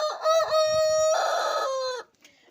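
A chicken clucks and crows loudly up close, a short run of harsh, tonal calls that cut off abruptly after about two seconds.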